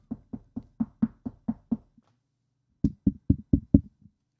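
Knocking on a door in two bursts: a quick series of about eight firm knocks, a pause, then five or six more, close and alone with no talk.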